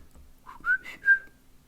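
A person whistles an imitation of the course-select whistle from the Wave Race video game title screen: a short, close, clear phrase of a few quick rising and held notes, alone in quiet surroundings.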